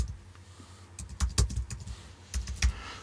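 Someone types on a computer keyboard in two short bursts of quick, close key clicks separated by a brief pause, with no talking.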